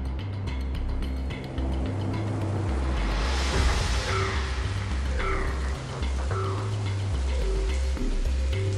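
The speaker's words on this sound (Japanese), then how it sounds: "ごめん、雨が降ってきたから。" Steady rain falling in the video game Soul Hackers 2, a continuous dense hiss of drops with low game music underneath and faint tonal blips, no talking.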